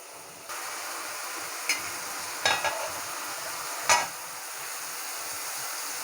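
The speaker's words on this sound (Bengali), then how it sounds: "ভালো করে মশলাটাকে একটু কষিয়ে নিচ্ছি।" Spice paste for bitter gourd and pangas fish sizzles steadily in a pan, with three sharp scraping stir strokes cutting through the hiss.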